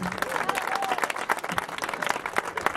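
Warm audience applause at a charity CD presentation concert, steady clapping from a seated crowd that carries on evenly for a few seconds, with a voice speaking over it.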